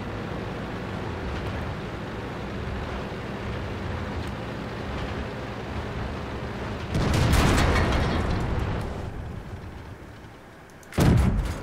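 Artillery fire in the World of Tanks video game: a steady engine rumble breaks into a loud booming shot that rolls off over a couple of seconds, then a second sharp blast near the end.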